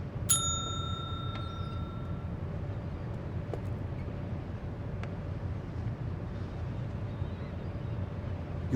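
A single bell rings out sharply in the game Secret Files 2, a bright struck tone that decays quickly, followed by faint clinks over a quiet ambient hum.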